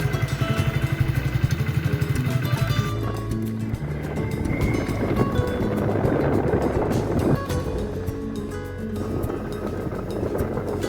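A motorbike cruises along a smooth road in the Ayodhya hills of Purulia, its engine droning steadily and fairly loud throughout, with a rougher, rumbling texture mixed in.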